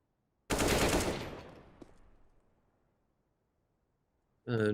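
Gunfire in CS:GO during a Virtus.pro versus FORZE match: a sudden close burst of rapid automatic shots that rings out and decays over about two seconds, then silence before another sharp shot cuts in at the end.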